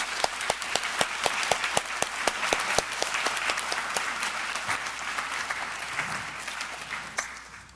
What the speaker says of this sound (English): I hope we can give them a round of applause and thank them for their time and contribution.